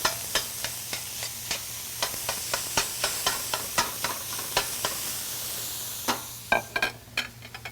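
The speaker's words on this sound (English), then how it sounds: "we're going to break it up and have it start browning." A mix of ground beef, pork and veal browns in a pan, with a soft sizzle under about twenty sharp, evenly spaced spatula taps as the meat is broken up, quickening near the end over a low hum.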